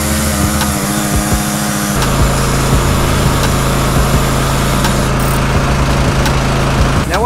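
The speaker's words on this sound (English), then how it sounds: "Very slow process using an air saw." A pneumatic air saw cuts slowly through a rusty nut, giving a loud, steady mechanical drone with a rapid reciprocating buzz that runs without a break throughout.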